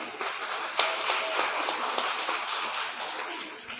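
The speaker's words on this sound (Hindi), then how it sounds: "ताली बजाओ इसके लिए।" Scattered crowd clapping for a child at a Shrimad Bhagavat Katha religious discourse. The applause is moderately distant and fairly soft, with irregular claps running steadily for several seconds with no voices over it.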